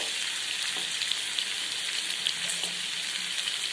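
Spice paste sizzles steadily in a hot pan with pieces of paneer, a continuous close frying hiss with faint stirring.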